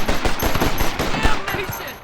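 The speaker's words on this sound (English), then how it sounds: "What about the Gatling gun?" A Gatling gun fires a rapid, loud burst in the Red Dead Redemption video game, a dense rattling stream of shots close up for about two seconds.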